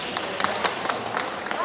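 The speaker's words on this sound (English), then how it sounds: "You can hear them applauding, saying bravo" A crowd of spectators outside a French courthouse claps steadily with scattered voices calling out bravo, the applause dense and continuous throughout.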